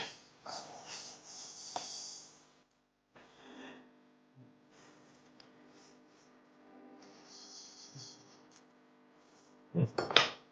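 A small spoon clinks lightly against dishes while salad is tasted, faint scattered taps and scrapes over a low background hum, with a louder clatter at the end.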